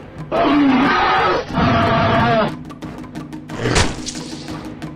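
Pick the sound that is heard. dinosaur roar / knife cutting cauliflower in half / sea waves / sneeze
dinosaur roar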